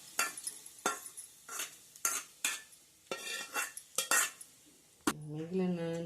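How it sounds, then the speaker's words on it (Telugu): Spoon stirring hot tempering into mango pickle (maagaya) in a steel vessel, giving a series of scraping, clinking strokes at a steady rhythm, close up, followed by a hot, frying sizzle at the end. "ఇప్పుడు ఈ పోపుని మనం కలుపుకున్న పచ్చళ్ళలోకి యాడ్ చేసుకోవాలా?"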